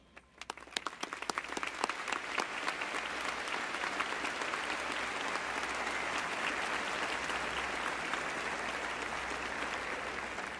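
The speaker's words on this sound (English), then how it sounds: "please stand so that we can applaud your accomplishments" Audience applause at a Florida State University summer commencement as honor society graduates stand: scattered claps build within a second into dense, steady clapping that fills the hall and continues to the end.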